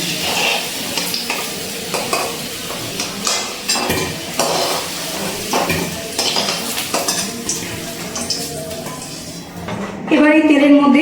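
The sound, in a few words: drumsticks (sajne data) frying in oil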